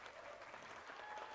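A graduation ceremony audience gives sustained applause, a dense, even wash of many hands clapping together with no pauses.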